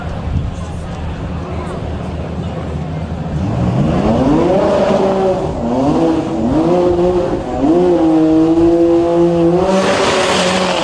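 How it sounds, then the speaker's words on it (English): A Corvette drag racing down the left-hand lane of a drag strip at a DCT World Cup qualifying event, its engine climbing loudly through rising gear-by-gear revs with brief shifts, while an announcer talks over the roar. "And the Corvette on its way down the left-hand side."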